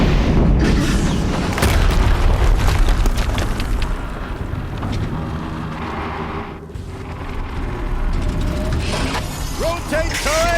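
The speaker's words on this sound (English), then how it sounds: "Another explosion." Explosions in the action game Horizon Zero Dawn rumble as a continuous, loud booming with crashing debris and mechanical clatter, underneath a spoken voice.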